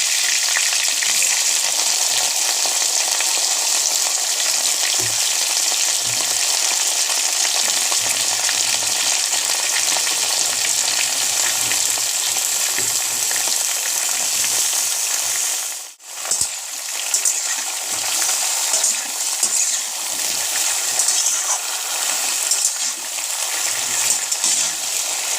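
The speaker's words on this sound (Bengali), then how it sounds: "লম্বা লম্বা করে কাটা ঝিঙেটা আমি দিয়ে দিচ্ছি।" Long-cut ridge gourd frying in oil in a pan while being stirred: a continuous close hiss and sizzle with soft stirring clinks and a short dip partway through, with no speech.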